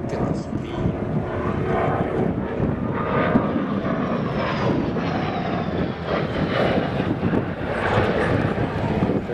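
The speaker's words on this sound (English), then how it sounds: "This is another of the Centaurus engine ones." A Hawker Sea Fury with a Centaurus radial engine flies past at an air show, its propeller drone steady and loud against wind noise, with a voice talking over it.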